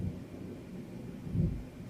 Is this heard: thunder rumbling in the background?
yes